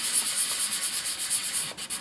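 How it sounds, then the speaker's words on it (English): Sandpaper is rubbed by hand over a resin model part in quick, continuous, close back-and-forth strokes, making a steady rasping scratch with no voices. "I like using these because I won't round off corners if I'm sanding like this."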